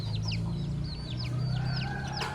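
Chickens sick with fowl pox clucking and calling repeatedly at close range over a steady low hum, with a brief crow-like call near the end.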